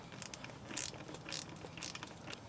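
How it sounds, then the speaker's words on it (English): An Allen wrench loosens a strut bolt on a Subaru Forester XT, giving a few quick metallic ratcheting clicks in short bursts, close and fairly quiet, without speech. "Allen wrench, and we're going to loosen it from here."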